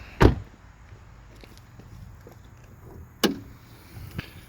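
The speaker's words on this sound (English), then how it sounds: "I'm actually going to open up the hood for you guys." Hood of an Alfa Romeo Giulia Quadrifoglio with a twin-turbo V6, opened by hand: two sharp, close metallic clunks about three seconds apart, likely the latch release and the hood lifting, over a quiet background with no talking.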